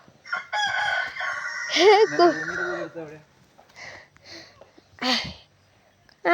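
A rooster crows clearly and close by at nine in the morning, a long warbling call followed by a shorter second crow, with short pauses in between.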